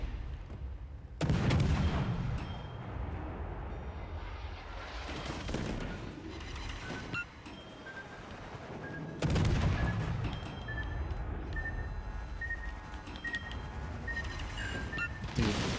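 Heavy naval gunfire from World of Warships: Legends, with two loud broadside booms and a rolling artillery rumble between them over a steady battle din.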